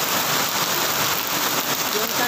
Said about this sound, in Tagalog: Lumalakas na ang ulan.